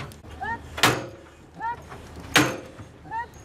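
A firefighter trainee knocks hard on a pull door during Paris fire brigade training: two loud, sharp knocks about a second and a half apart, with voices and faint speech in the background.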